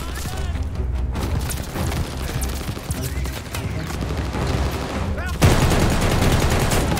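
Light machine gun in Call of Duty Vanguard firing in a continuous dense stream amid loud battle noise, with one heavier burst near the end and voices talking throughout.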